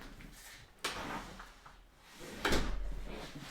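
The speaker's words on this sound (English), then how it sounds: "the door is opening again" Door unlocked by a smart access control lock, opening with a soft latch click and a louder thump, then a second heavier knock and rattle, fairly quiet and close.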